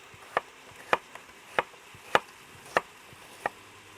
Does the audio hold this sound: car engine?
no